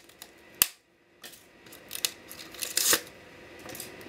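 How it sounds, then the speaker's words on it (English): A nearly 40-year-old Polaroid camera is torn apart by hand: sharp cracks and snaps of plastic, a few scattered bursts of tearing and prying, close by with quiet pauses between them. "Ripping it apart with my hands."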